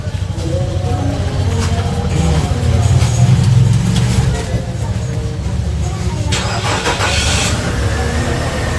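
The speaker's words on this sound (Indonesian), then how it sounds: "Kita akan coba hidupin mobil." A campervan's engine is started and kept running, a loud steady mechanical rumble with rising intensity midway and some clicks and rattles, while someone speaks over it.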